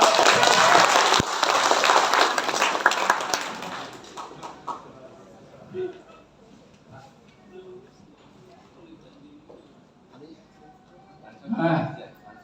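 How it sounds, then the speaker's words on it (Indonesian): Audience applause at a religious gathering, loud dense clapping for the first few seconds that fades out, followed by quiet shuffling, scattered small noises and a brief thump near the end. "Tepuk tangan"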